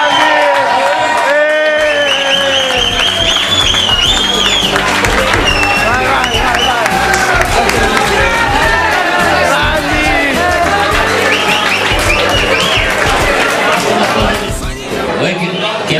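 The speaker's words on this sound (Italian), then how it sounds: "accogliamoli con un caloroso applauso, ecco Baboden e Rupert Sciamenna." Crowd at an outdoor town festival in Ispra applauding and cheering loudly as performers are welcomed on stage, with chatter and voices mixed through the steady, dense roar.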